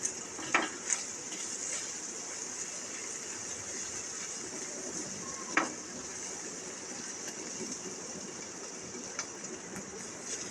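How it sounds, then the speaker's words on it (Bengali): Frozen peas and chicken fry in a pan with a steady, even sizzle from start to finish, broken by a few soft clicks of stirring and no talk. "এখন মটরশুঁটিও মাংসটাকে একটু ভালোভাবে ভেজে নেব।"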